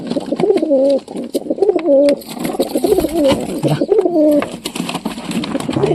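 Pigeons cooing close by in a steady run of throaty, repeated coos with short pauses between calls, alone with no talk over them.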